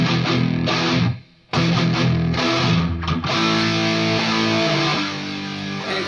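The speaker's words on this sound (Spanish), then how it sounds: "Ahora las dos guitarras suenan y se complementan así." Two distorted electric guitars run through a Nux MG30 multi-effects unit and play together in a dense, layered riff. The sound is loud and continuous apart from one short cutoff early on.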